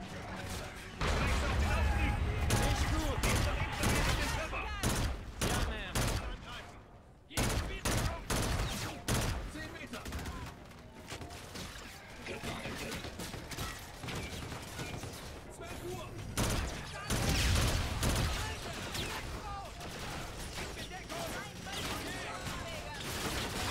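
Weapon fire in Call of Duty: Infinite Warfare, dense bursts of rapid gunshots and sharp blasts, loud and near, with a brief lull, while someone talks over the action.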